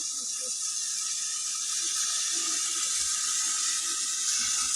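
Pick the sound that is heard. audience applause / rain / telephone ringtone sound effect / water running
water running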